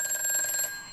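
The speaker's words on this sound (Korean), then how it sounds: "이어서 다음 전화도 받아보겠습니다" A telephone rings for an incoming call on a Korean stock-trading call-in broadcast: one short, bright electronic ring burst that stops and fades quickly, with no talking over it.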